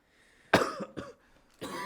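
Several harsh coughs from one person close by, a strong first cough followed by a couple of weaker ones and another burst.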